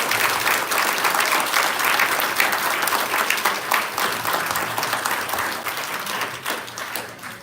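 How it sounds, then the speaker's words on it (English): A large audience at a bowling Hall of Fame ceremony applauds steadily and loudly in honor of four inductees, a dense, sustained wash of clapping with no speech over it. "And now I'd like to give one more round of applause for all four tonight in memory of John,"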